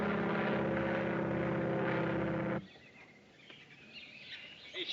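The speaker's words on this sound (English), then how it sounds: "That won't hurt you. It's only an airplane." A propeller airplane drones loudly overhead for a couple of seconds, then the sound cuts abruptly to quieter outdoor background with faint bird calls and no talking.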